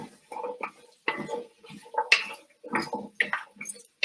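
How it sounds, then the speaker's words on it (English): Squash and carrots being stirred in a pot, with a run of soft scraping knocks and clinks of a utensil against the pot, close and intermittent in a quiet room. "I'm going to give this a stir"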